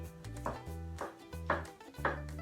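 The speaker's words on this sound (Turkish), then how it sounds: "Şimdi sirde mantarını doğrayacağım." A knife chops oyster mushrooms steadily on a board, four evenly spaced cuts over a low background hum, close and moderately loud.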